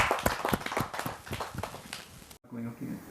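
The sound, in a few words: audience applause welcoming a poet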